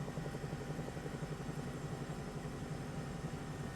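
Cowansim Bell 222B helicopter flying in Microsoft Flight Simulator 2024 gives a continuous low rotor thrum with a fast rhythmic chop and turbine whine, steady and close with no talk.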